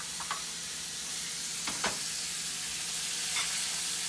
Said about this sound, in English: add the steak back into the pan